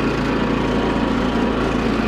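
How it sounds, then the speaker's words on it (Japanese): Yamaha YT-660EDJ snowblower engine running steadily after an electric start, a loud continuous mechanical drone with a low throbbing hum and no breaks. "エンジンはもちろんセルでかかります"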